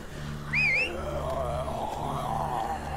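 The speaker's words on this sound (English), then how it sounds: "That was a loud whistle, and it only attracted like one walker." A loud rising-and-falling whistle in The Walking Dead video game, one sharp two-part blast near the start over a low steady hum and murmuring game ambience.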